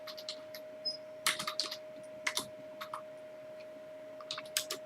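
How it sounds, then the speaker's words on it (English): Computer keyboard typing in short, quiet bursts of clicks separated by pauses, with a faint steady electronic hum in a still room. "So, the Roger Donaldson, I typed up the wrong Roger"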